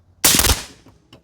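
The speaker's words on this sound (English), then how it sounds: "Let's shoot them at the same time and see what they look like for muzzle recoil." Two PRI MK12 .308 rifles fire at the same moment outdoors, merging into one loud, sharp blast with a short rumbling tail, followed by a faint distant echo.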